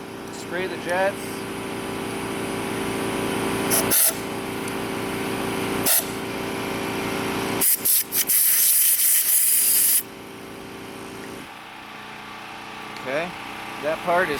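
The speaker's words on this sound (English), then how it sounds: "Spray the jets." Loud bursts of aerosol carburetor cleaner hissing in short and longer blasts onto the jets of an old small-engine carburetor, with someone talking between them and a low engine-like hum underneath.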